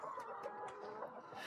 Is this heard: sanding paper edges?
no